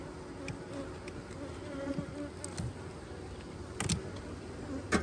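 Honey bees hum and buzz steadily close by around their hive, many wings droning together, with a few louder passes near the end.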